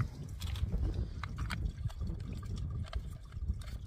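Water running into a 700 ml bottle at a windy wild-camping spot, a steady close trickle and pour under gusty wind rumble, with no talk.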